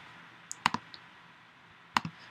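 Keys on a computer keyboard tapped in a few isolated close clicks, a short burst then a pause and two more presses, with no talking.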